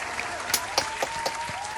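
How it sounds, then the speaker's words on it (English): Studio audience applause closing a mock late-night TV show, a brief burst of clapping with sharp individual claps standing out over a steady patter, fairly close and moderately loud. "let's give a round of applause for the Lord of the Flies cast"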